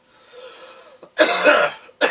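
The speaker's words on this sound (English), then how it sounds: "Excuse the cough, I smoke." A smoker coughs nearby: a faint throat sound followed by two harsh, loud coughs in quick succession.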